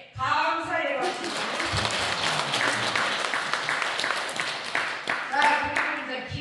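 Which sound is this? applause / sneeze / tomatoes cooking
applause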